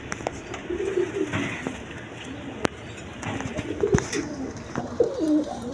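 Big Lahori pigeons coo in low, rolling phrases that repeat through the whole stretch, close and fairly loud, with a few sharp clicks and light background noise around them.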